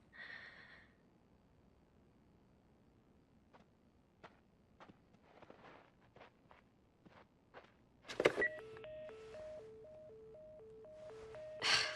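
A telephone in the prologue of the video game The Last of Us Part 1 gives off electronic tones from a dead line. Quiet footsteps and movement come first, then a sudden clunk and a repeating two-note tone pattern.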